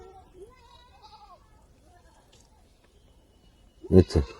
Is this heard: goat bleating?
yes